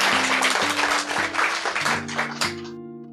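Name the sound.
audience applause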